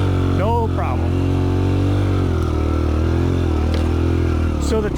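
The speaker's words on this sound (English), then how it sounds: "I could just basically idle up this hill, no problem." A Suzuki DR-Z dirt bike idles up a hill on a trail, its engine holding a steady, close, droning note throughout; a brief voice-like sound briefly rises over it near the start.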